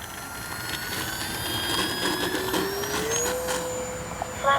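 An FMS Cessna 182 RC model airplane with a Spektrum nose wheel gyro runs its electric motor through a steady whine on the takeoff roll, rising in pitch midway and holding high, with no talking.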